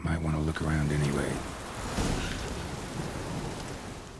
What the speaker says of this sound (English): It's gonna storm.